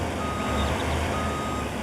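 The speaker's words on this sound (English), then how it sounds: "Actually, not the McCormick, the Volvo truck we've got, because this is our trailer and I don't have a dolly for it." Volvo truck reversing in a farming video game, its backup alarm beeping over a low engine rumble in a short, steady stretch without speech.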